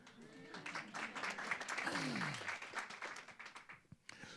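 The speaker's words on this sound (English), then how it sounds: "I think you should all be giving yourself a round of applause for being here" Audience at an organization night event applauding, a moderate wash of claps with a voice speaking faintly through it and the clapping thinning toward the end.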